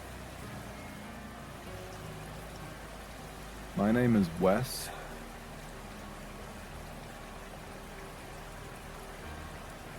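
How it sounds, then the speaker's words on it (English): Steady rushing of creek water mixed with wind noise fills a wooded trail, constant and broad throughout, while someone speaks briefly near the middle. "There's still a lot of noise from the water and the wind."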